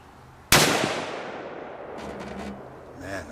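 A single loud rifle shot, a 6.5 Creedmoor firing Federal copper rounds into a concrete target, cracks sharply outdoors and rolls off in a long decaying echo, with faint voices following near the end.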